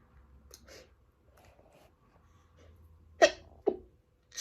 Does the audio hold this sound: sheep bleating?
no